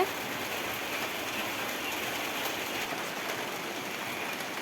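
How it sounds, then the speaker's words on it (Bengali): A sudden village downpour makes a steady, dense rain hiss on surfaces nearby, constant and unbroken with no voices. "হঠাৎ করে বৃষ্টি চলে আসলো"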